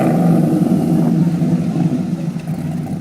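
A 1992 Dodge Viper RT10 with an 8.0-liter V10 engine, a loud, steady low rumbling drone that eases slightly, close and alone without talk.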